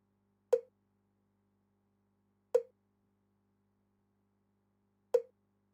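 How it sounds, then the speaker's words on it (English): Cowbell-like percussion hit in an afrobeat production, three isolated, evenly spaced metallic tocks with quick decay over a faint steady hum, no voices. "It sounds like a cowbell,"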